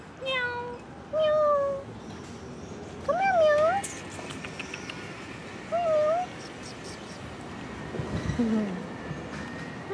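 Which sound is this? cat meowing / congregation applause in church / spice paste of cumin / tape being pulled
cat meowing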